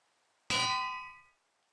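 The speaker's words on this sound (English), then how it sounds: "So what you do is you place the bell above this villager here" A single metallic bell chime rings once when a bell is placed in Minecraft: a sharp clanging strike with a bright ringing tone that decays over about a second in otherwise quiet surroundings.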